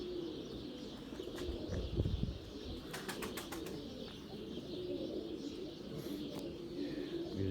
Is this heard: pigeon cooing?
yes